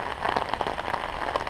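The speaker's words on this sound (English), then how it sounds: "even though it's been raining this much." Steady rain falls near beehives, a dense close patter of drops hitting surfaces with no pauses and no talking.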